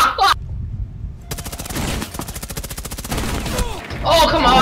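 Rapid automatic gunfire in Rainbow Six Siege, loud, steady bursts running through most of the stretch with brief pauses, players' voices talking at the start and end.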